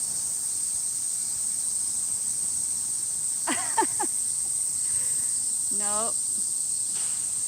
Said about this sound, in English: that's just the cicadas